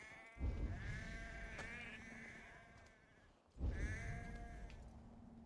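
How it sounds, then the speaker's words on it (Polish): Two loud, close sheep bleats in the game Assassin's Creed Valhalla, each a wavering drawn-out cry, separated by a short pause, over a low background rumble. "No i owce są."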